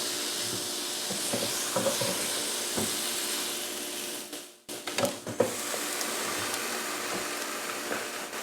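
Food sizzling steadily on a George Foreman grill, a continuous close hiss with faint clicks and a brief dip midway before the frying noise resumes.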